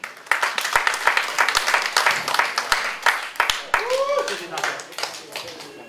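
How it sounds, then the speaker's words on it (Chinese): Audience clapping greets a singer taking the stage at a live concert, a dense spray of sharp hand claps filling the hall, with a brief whistle or voice sliding through near the end. "来，掌声有请。"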